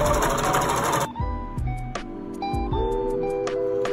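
Sewing machine running a French seam on lightweight fabric, a steady whirring stitch burst close by for about a second, followed by quieter clicks and handling sounds of the fabric and machine.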